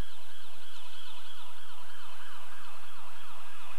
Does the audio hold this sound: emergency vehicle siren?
yes